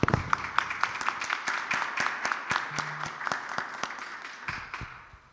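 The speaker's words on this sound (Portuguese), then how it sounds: "Eu peço, por favor, uma salva de aplausos" An audience at a lecture on liberal political thought gives a short round of applause, with crisp individual claps that build steadily and then gradually fade.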